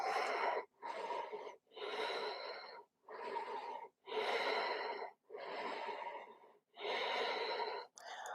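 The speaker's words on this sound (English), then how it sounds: "One more big breath in and out." Slow, deep breaths during a yoga pose in a vinyasa flow class, eight or so long audible inhales and exhales in a steady rhythm, close and soft, with no talk.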